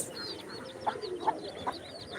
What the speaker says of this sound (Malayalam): അവ താറാവ് കൂട്ടങ്ങൾ കൂട്ടത്തോടെ വന്നല്ലോ ഗെയ്സ്